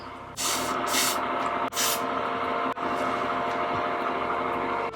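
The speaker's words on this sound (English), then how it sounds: "So now I'm gonna spray it with the Wig Dealer melting spray." Long, loud hissing bursts of aerosol wig melting spray onto a lace closure wig, close up, with brief pauses between sprays.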